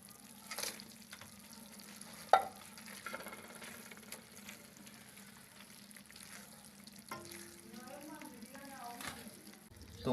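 Fried cauliflower pieces are stirred into a thick Manchurian sauce in a pan, with soft sizzling and scraping under steady background noise and one sharp utensil knock.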